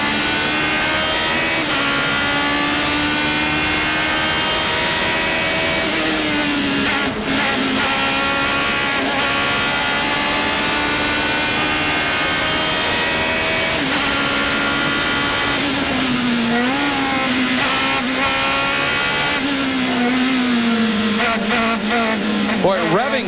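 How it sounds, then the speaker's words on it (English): A 2000 SCCA Runoffs race car, heard from on board, whines steadily at very high revs for over twenty seconds, its pitch dipping and climbing through shifts and corners, loud and continuous. "Now listen to this engine whine."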